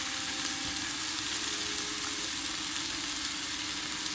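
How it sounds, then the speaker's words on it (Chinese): Marinated beef steak pan-frying slowly over low heat at a campsite in the Adelaide Hills, South Australia, giving a steady, even sizzle and hiss throughout with no talking. "小火慢煎。"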